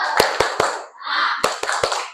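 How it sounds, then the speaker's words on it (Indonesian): A primary school class claps the 'tepuk semangat' spirit routine, three sharp unison claps, a short chanted shout, then three more claps in quick rhythm, near and crisp. "Kita tepuk semangat dulu"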